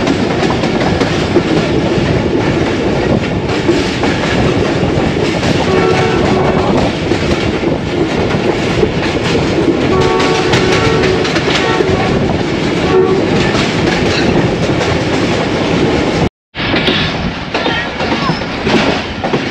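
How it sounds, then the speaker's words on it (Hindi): The 122DN Ravi Express passenger train runs on the rails toward Shahdara Bagh Junction, a loud, close, continuous rumble with clattering wheels and sustained horn tones, broken by a brief dropout near the end. "शादरा बाग जंक्शन रेलवे स्टेशन पर ट्रेन रुक रही है"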